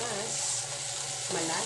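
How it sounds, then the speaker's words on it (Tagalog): Sliced tomatoes crushed into green beans sautéing in a pan, with a steady close sizzle of frying under soft scraping and stirring. "durugin natin ng mabuti ang slice na kamatis"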